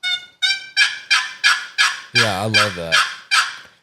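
A box turkey call imitating a hen, with an old chalky tone, gives a rapid series of about nine sharp yelps in even rhythm, close and loud, with a short spoken phrase overlapping the middle notes.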